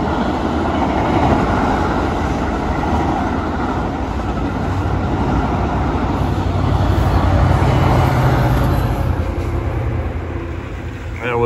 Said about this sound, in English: There's a Metra commuter train due from Aurora to Chicago Union Station.